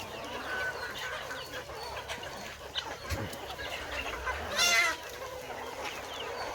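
Chickens clucking in a farmyard, a steady mix of soft clucks and calls with a louder burst near the end over outdoor background noise.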